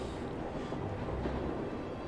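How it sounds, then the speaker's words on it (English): Steady low rumble of a train ride in the video game Trails of Cold Steel, a continuous rolling carriage drone with faint air noise and no distinct clacks. "We're on the train again."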